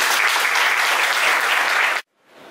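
An audience at a book presentation applauds in a dense, loud burst of clapping that stops abruptly, followed by a short silence and then faint room noise rising.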